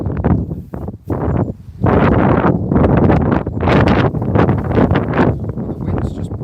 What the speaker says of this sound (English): The wind's just pushing through a little bit.